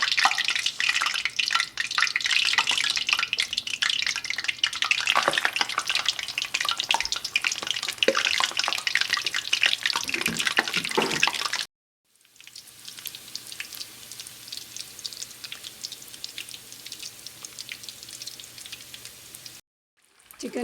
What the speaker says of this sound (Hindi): अब हम अपने चिकन स्प्रिंग रोल इसके अंदर एक एक करके डाल